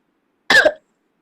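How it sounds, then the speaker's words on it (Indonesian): One short, sharp cough bursts out close and clear, lasting under half a second against otherwise silent surroundings. "Ya Bunda sudah mulai batuk ya"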